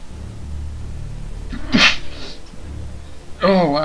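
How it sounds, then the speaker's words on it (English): One forceful human sneeze, loud and close to the microphone, breaking a quiet stretch, with someone starting to talk right after. "I gotta sneeze."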